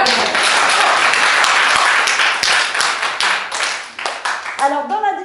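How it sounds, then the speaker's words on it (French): An audience at a stand-up comedy show claps in a loud, sustained burst of applause that thins into scattered claps before a voice cuts in at the end. "Et là, vous allez m'applaudir"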